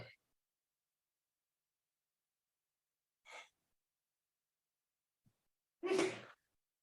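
A single sharp sneeze in a quiet city council chamber, preceded by a faint intake of breath a few seconds earlier and a tiny click, isolated against near-silence.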